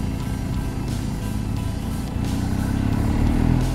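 A motorcycle engine drones steadily while riding winding mountain roads in Spain, close and continuous with wind, growing slightly louder and fuller partway through.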